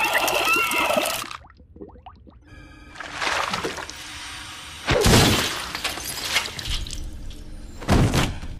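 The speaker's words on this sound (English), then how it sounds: "He pulls her head out and then just smashes it on the table." A frozen human head, chilled in liquid nitrogen, is smashed on a table in a horror movie scene, producing loud, sharp shattering crashes and heavy thuds in several bursts over a dense, noisy soundtrack.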